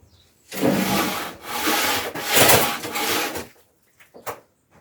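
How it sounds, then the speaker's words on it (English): Hand sanding of rough pallet wood being made into a small bistro table, heard as several steady rasping strokes back and forth across the boards, followed by a couple of short faint scrapes. "now I'm doing a quick sand by hand just to get any of the slivers and rough bits off."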